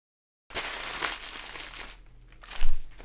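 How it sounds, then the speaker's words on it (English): Plastic bags wrapping cheap overdrive guitar pedals are crinkled and handled up close during an unboxing, loud irregular rustling bursts after a short silence, with no voices. "plastic bags."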